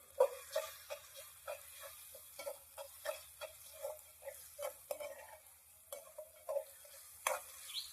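Ginger and garlic sautéing in oil over a wood-fired stove for fish curry, soft rhythmic stirring scrapes over a faint low sizzle, fairly quiet and without speech.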